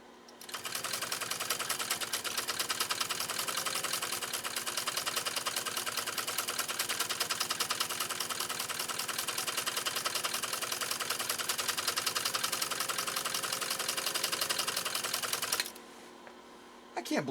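A Pfaff 130-6 sewing machine with a mounted embroidery attachment runs a decorative stitch in a fast, steady mechanical clatter for about fifteen seconds, then stops abruptly.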